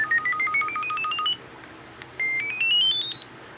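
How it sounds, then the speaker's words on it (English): Samsung A530 cell phone from 2004 sounding a notification bell tone: two short rising runs of clear electronic beeps, played close and alone, with a brief quiet gap between them. "bell number 2 was what I used to always use for voicemails notifications"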